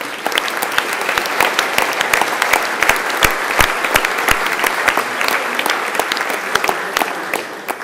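An audience claps steadily and warmly to welcome Kathi Ricklin from Zürich, a dense sustained round of applause with a few sharper individual claps standing out.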